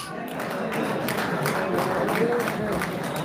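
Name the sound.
audience clapping during speech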